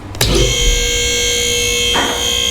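Vehicle lift raises a lowered Dodge Dakota pickup truck in a garage, a loud steady electric motor whine with tonal hum running continuously after an initial clunk, with a brief shift in pitch near the end.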